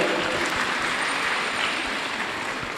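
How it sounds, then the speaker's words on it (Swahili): A self-help group's members at a Catholic church annual general meeting applaud for an accountant, steady, dense clapping filling the room for the whole stretch at moderate loudness. "Tumpigie CPA Waweru Mwangi makofi tena."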